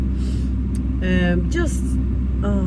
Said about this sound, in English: I've got the heating all the way up and I think it's making too much noise